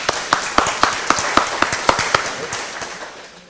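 Scattered hand claps ring out from an audience at a deep-tech talk, a dozen or so distinct sharp claps at an uneven rhythm that thin out and fade toward the end, with no talking.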